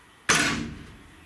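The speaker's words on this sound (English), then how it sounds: "the door closes nicely." A 2001 BMW 325ci E46 car door, on a car being built for racing, shuts with a single solid close thump followed by a short fading rattle.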